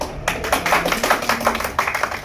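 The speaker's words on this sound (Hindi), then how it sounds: "इसलिए इन लड़कों के लिए भी एक बार तालियां हो जाए" Crowd applause at a comedy poetry show, dense and steady clapping from many hands that starts abruptly after a brief quiet moment and carries on evenly to the end.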